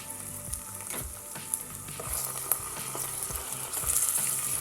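Cleaned chicken pieces sizzle and fry in a pan with browned ingredients, a soft crackling hiss broken by occasional clinks and stirring sounds, close and fairly quiet.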